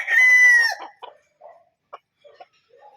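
A Raptor Sweater gamefowl rooster crows once, loud and close, then gives a few short, softer clucks and scratchy noises.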